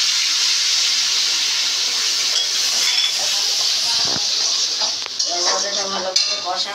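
Onion paste for a Bengali-style pomfret gravy sizzles in a pan after nigella seeds have gone into the oil. It makes a steady bright hiss throughout, with a few clinks near the end and a voice talking briefly.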